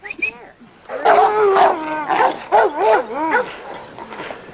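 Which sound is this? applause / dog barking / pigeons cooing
dog barking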